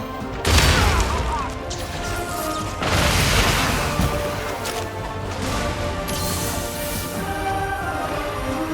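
Heavy explosive blasts from Crimson Glow Valstrax in the video game Monster Hunter Rise: two loud booming crashes a few seconds apart, each trailing into a rumbling fusillade of smaller bursts, then lighter crackling impacts.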